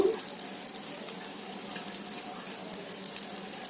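Cumin seeds and curry leaves sizzling in hot oil in a pan for a breakfast dish, a steady close crackling fry with small pops scattered through, no voices.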